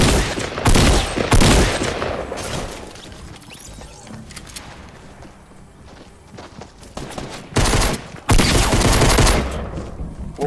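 Gunfire in the video game Fortnite rattles out in loud, close automatic bursts, with rapid volleys at the start and again near the end and a quieter stretch of scattered game sounds between them.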